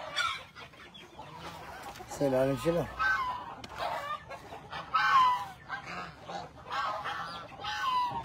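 Chickens cluck on a rural farm in the Philippine countryside, a short burst of fowl calls near the middle among outdoor background noise, while someone talks throughout.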